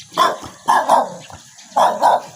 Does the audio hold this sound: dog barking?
yes